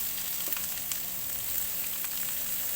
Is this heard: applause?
no